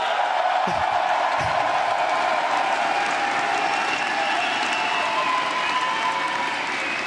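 A large crowd at a League of Legends esports match, the Mid-Season Invitational 2023, applauds and cheers in a continuous, roaring wash of clapping and noise that fills the whole stretch.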